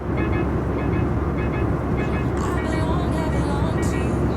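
Simulated airplane cabin noise with no active noise cancellation, heard through AirPods Pro: a loud, steady broadband roar with a low rumble and some faint higher tones on top.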